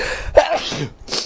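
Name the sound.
sneeze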